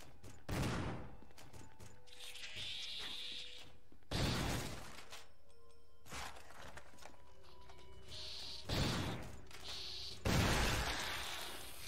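Three separate loud gunshots in Resident Evil 1 ring out with pauses between them, each with a sharp crack and echo, amid quieter background hum and clatter.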